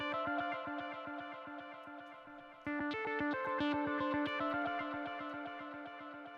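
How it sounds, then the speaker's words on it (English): A synthwave arpeggiator hook for a remix pulses as a fast, even run of bright synth notes with effects, the pattern shifting pitch midway and carrying on at steady volume with no voices. "I have a little ARP hook that you'll hear throughout the remix"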